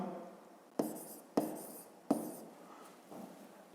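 Chalk or pen writing out a fifth-grade math exercise, heard as three sharp taps a fraction of a second apart followed by fainter strokes, close and quiet in a still room.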